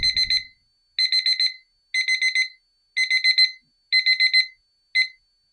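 Sharp electronic beeps from a digital kitchen timer in six bursts, mostly quick clusters of four or five with short gaps between, loud and close, ending on a single short beep.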